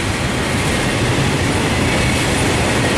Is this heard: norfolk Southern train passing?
yes